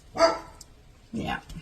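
A dog named Max barks twice from a backyard, two short separated barks with a brief word spoken nearby.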